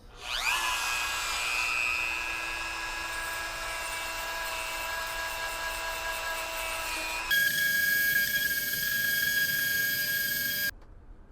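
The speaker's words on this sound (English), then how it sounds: "work on the end of this with a Dremel." A high-pitched Dremel rotary tool whines steadily up close while carving wood for a backscratcher, shifts to a higher pitch partway through, then cuts off abruptly.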